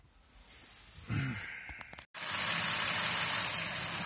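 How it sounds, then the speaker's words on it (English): A car engine idling after an engine oil flush and oil change, a steady low rumble that grows louder partway through with a brief dropout, heard alone without talk. "engine is running around 10 maybe 15 minutes"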